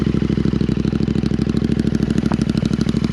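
Royal Enfield Interceptor 650 twin fitted with S&S slip-on exhaust pipes idles loud and close, a steady deep, even pulsing thump with a faint mechanical clatter over it.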